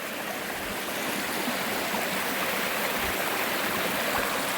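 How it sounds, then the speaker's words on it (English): A clear stream at a former Pennsylvania mine site rushes nearby in a loud, steady wash of water with a few low gurgles and no speech. "Now I got this stream coming here."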